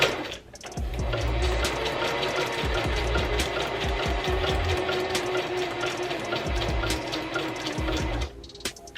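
A Singer Heavy Duty sewing machine runs a zigzag stitch through notebook paper, its steady rapid needle clatter loud and close for about eight seconds before stopping.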